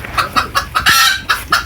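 A chicken hidden inside a bag clucks loudly and close by in quick repeated bursts, with one longer, squawkier call in the middle.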